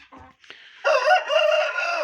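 Young roosters crow out in the sun after two days of rain, a loud, ragged crow rising sharply and holding for over a second, preceded by brief softer clucking noises.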